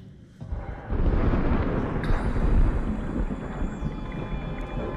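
Deep, heavy rumbling like distant thunder rolls through a dark underwater setting in the video game SOMA, rising after a quiet start and holding steady and loud, with a faint high metallic whine entering midway.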